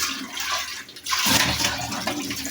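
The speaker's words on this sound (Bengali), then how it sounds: "এক এক করে সবগুলো ধুয়ে নিব।" Tap water runs and splashes steadily while leafy greens picked from a rooftop garden are washed at home, a dull hiss that swells louder and brighter about halfway through, with no talking.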